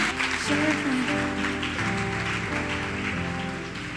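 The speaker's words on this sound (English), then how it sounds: "Keep clapping, keep clapping, keep clapping." An audience claps steadily and continuously at a school closing ceremony, a dense wash of hands under loud music that plays throughout.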